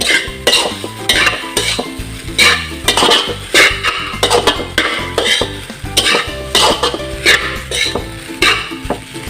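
Leftover cold rice is stir-fried for Ilocano-style fried rice, with loud, rhythmic spatula scrapes and clanks against the pan repeating in quick bursts over a faint sizzle, close up and without talk.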